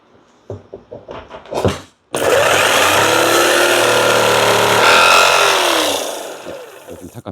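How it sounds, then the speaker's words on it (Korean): A jigsaw fitted with a worn used blade cuts through staple pins while installing a 6-inch subwoofer box in a car trunk: a few short sputters, then a loud, sustained, harsh buzzing grind for several seconds that winds down. "요즘 타카핀이 잘리는 소리죠."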